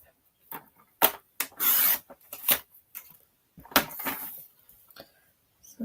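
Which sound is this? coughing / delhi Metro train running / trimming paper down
trimming paper down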